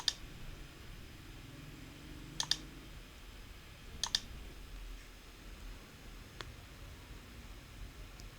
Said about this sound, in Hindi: मैं जूम क्लिक कर रही हूँ वो क्लिक की आवाज़ भी आ रही है